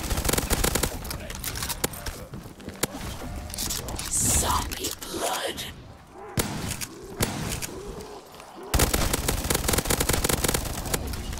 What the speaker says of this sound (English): Yeah, I can just run and shoot.